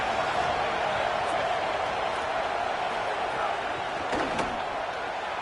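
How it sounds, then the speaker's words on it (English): A stadium crowd in a football video game roars steadily for the defense on third down, a loud, dense wall of cheering that holds throughout, with a couple of brief sharp cracks near the end. "Decibels rising as the crowd gets behind this defense on third down"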